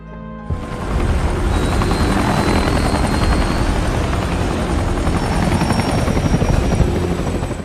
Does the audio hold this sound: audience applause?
no